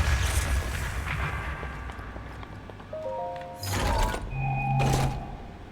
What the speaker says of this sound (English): I choose explosions.